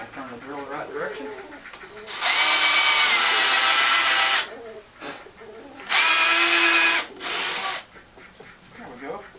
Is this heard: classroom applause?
no